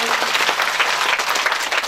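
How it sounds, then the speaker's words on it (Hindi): A crowd at a Bhagavat Katha religious gathering in a village breaks into loud, dense applause, a brief continuous roar of clapping close by. "एक बार जोरदार तालियां"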